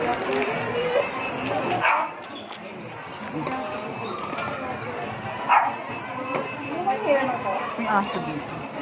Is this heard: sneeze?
no